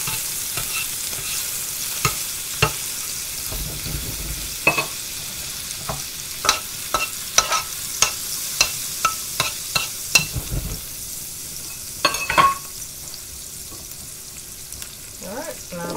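Butter sizzles in a pan for spicy garlic prawns. A continuous close frying hiss runs under a string of regular sharp taps and scrapes from a utensil against the pan.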